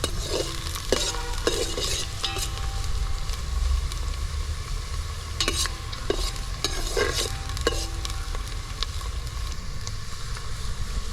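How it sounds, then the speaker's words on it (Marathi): Onions sauté in a pan for mutton cooked over a wood-fired stove, a continuous close sizzle with repeated scraping stirs and occasional clinks of the spatula. "कांदा चांगला गुलाबी होईपर्यंत आपल्याला परतायचा आहे"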